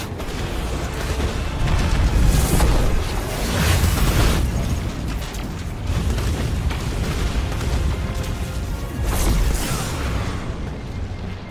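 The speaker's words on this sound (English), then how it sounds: "Missiles! Stay inside my shield!" Missile explosions in the Destiny 2 video game, heavy low booms that swell and roll every couple of seconds across a dense, continuous wall of battle noise, loud and close with no speech.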